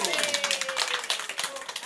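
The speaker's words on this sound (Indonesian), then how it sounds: "kita tepuk tangan buat Ibu" A small group claps hands for a woman at a casual gathering, brisk steady clapping close by with voices talking over it throughout.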